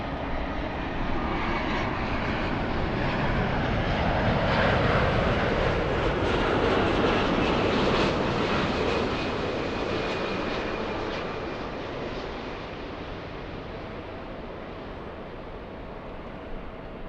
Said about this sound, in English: A350 1000 crossing the 405 freeway. Flying in from Haneda, this one landing